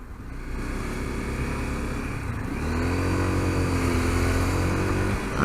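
Steady engine drone of a 250L motorcycle being ridden on a cold morning, with a sustained low hum that rises in pitch and intensity partway through as the rider accelerates, close and continuous.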